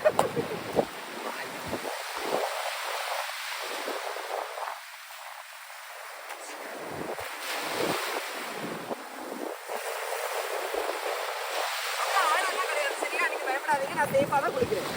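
Sea waves at Rasthakadu beach in Kanyakumari, with surf rolling in and washing steadily, mixed with heavy wind buffeting the microphone from start to finish.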